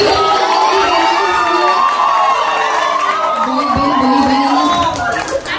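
A crowd at a live Ramadan hospital event cheers and claps loudly, with shouts and whoops layered over continuous applause.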